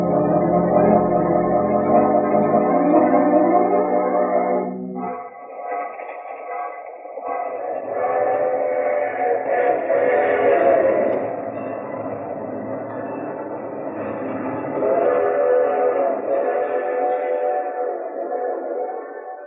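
A steam train in an old-time radio detective drama, heard as a loud, steady rolling chug with rhythmic clatter that swells and fades across the whole stretch, with no talk over it.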